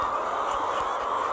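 Caged hens cluck continuously inside a large egg farm shed, with a steady dense wash of overlapping bird calls and a constant mechanical hum filling the space.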